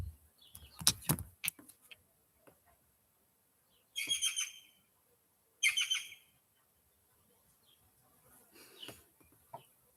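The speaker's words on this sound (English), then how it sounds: "Even the bird affirmed it." A bird calls in short clucking bursts, first a quick cluster, then two separated calls and a fainter one later, fairly close against a quiet background.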